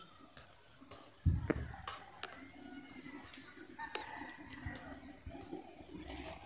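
Cut rice flour chip dough dropped into hot oil, frying with a steady close sizzle and bubbling after a sharp splash at the start, with occasional light stirring clinks and no talk.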